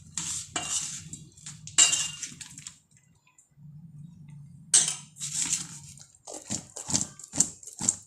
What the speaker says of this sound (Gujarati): અને પછી આપણે તેને હલાવી નાખશું।